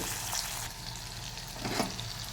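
A tomato dropped into hot oil in a pan sizzles steadily and loudly, a continuous close frying hiss with a slight surge near the end.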